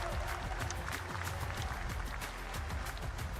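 An esports crowd at the G2 vs. GAM MSI 2025 Play-Ins match breaks into applause, a steady patter of many hands clapping at moderate distance throughout.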